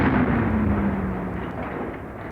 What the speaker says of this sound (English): artillery barrages unlike anything seen before